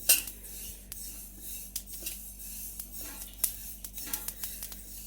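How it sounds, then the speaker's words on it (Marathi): Sesame seeds stirred with a metal spatula as they roast in a wok over a low flame, a steady run of close, light scraping and clinking strokes with no talk. "त्यामध्ये आता एक वाटी तीळ घालून घेऊया तीन ते चार मिनटासाठी आपल्याला लो फ्लेमवर सतत हलवत राहायचे आहे"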